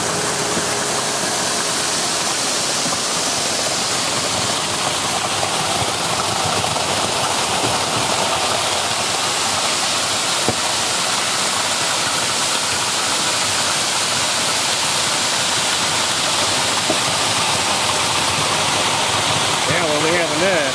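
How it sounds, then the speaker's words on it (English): Concrete from a truck pours steadily into foundation wall forms for a cabin in the woods, a continuous wet rushing wash that stays close and even throughout. "Pouring right into the wall from the truck."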